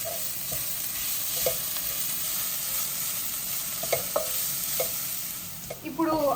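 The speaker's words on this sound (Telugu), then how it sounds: "ఆ పచ్చివాసన పోయేదాకా అల్లం వెల్లుల్లి పేస్ట్ బాగా ఏగాలి" Ginger garlic paste sizzles steadily in a hot pan, with a few sharp clicks of a spoon stirring and scraping through it, close and alone with no talking.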